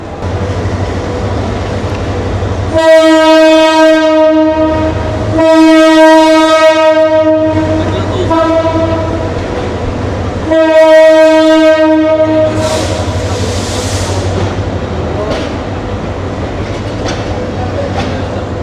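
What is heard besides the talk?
train departing, Dhaka to Sylhet, with horn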